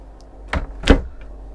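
A drawer or wardrobe door in a guest cabin aboard a Majesty 120 superyacht opens with two quick close knocks, a soft thud followed by a sharper clack in a quiet room.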